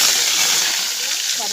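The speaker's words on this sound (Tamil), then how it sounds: "கடுகு போட்டுக்கிறேன்." Hot oil crackles and sizzles loudly and steadily as mustard seeds fry, a dense close-up frying hiss.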